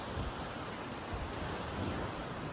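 Sea waves wash against the shore under gusty wind, a continuous broad rushing surf with steady wind buffeting on the microphone, with no voices.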